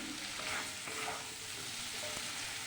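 Spice paste with Kashmiri chilli powder frying in a pan while being stirred, a continuous soft sizzle with occasional scrape and clink of the spoon, close and fairly quiet.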